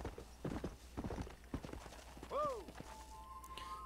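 Horse hooves clip-clop in an irregular trot in the Red Dead Redemption video game, close and fairly quiet, with a short whinny partway through and a low tone afterward.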